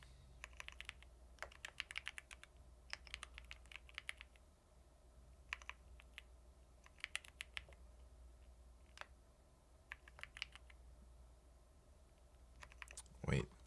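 Quiet computer keyboard typing during coding practice comes as scattered bursts of crisp key clicks with pauses between them. A low steady hum runs underneath, and a brief louder knock lands near the end.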